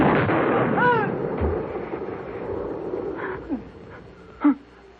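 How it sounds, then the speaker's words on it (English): A gunshot in a CBS Radio Mystery Theater drama gives one short, sharp bang near the end of the clip. Before it comes a tense stretch of muffled sound effects and a brief vocal cry. "I told you I'd shoot."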